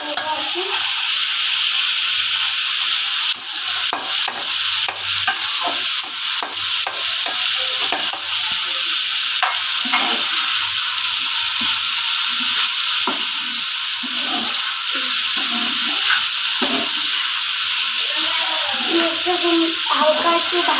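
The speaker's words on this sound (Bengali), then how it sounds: "এখন এটাকে একটু নাড়াচাড়া করে নেব আর কি।" Potato and egg curry is stirred in a pan, a continuous loud sizzle with rapid, repeated scraping strokes of a utensil throughout.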